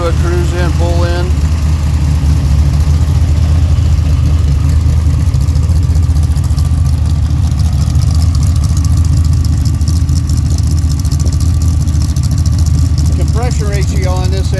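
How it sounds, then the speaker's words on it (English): A car engine with a drive-in idle camshaft, 9.25:1 compression and hydraulic roller lifters, idling loud and close with a steady, lumpy rumble throughout, with brief bits of speech near the start and end. "This thing's got a nice idle to it."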